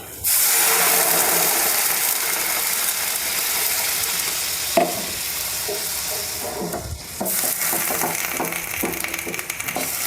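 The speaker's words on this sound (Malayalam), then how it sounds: "ഈ സമയത്ത് നമുക്ക് വെള്ളം ഒഴിച്ചു കൊടുക്കാം" Water is poured into a pan of sizzling fried chillies, giving a loud burst of hissing and spitting at once. The sizzle stays strong and steady, with a few utensil knocks near the middle and no talking.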